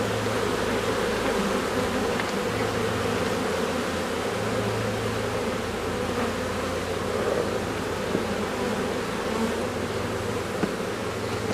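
Honey bees swarm over a hive frame during a hive inspection, a dense, steady buzzing hum that stays loud and close throughout with no voices.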